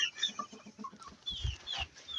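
A rooster or chicken clucks repeatedly in short, agitated bursts while being chased around a yard, with scuffling movement and a louder flurry midway through.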